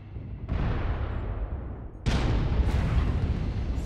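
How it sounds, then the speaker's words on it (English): Cannon fire from a mech in the video game MechWarrior Online, two heavy booming blasts about a second and a half apart, each followed by a sustained roaring rumble, loud and close with no talk. "Gave him the good old cannon."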